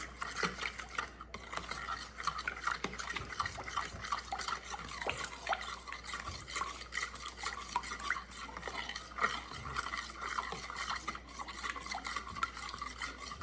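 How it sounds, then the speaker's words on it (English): A fork whisks a chicken gravy mixture in a Ninja Foodi Possible Cooker Pro pot, producing quiet, continuous rhythmic scraping and liquid sloshing with faint clinks, alone and close. "Could use a whisk, but whisk it with a fork. That's what I am doing."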